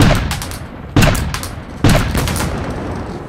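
Gunfire sound effect in a Play-Doh toy story with SpongeBob and Ninja Turtles: three loud, sharp blasts about a second apart, each trailing into a rumbling decay.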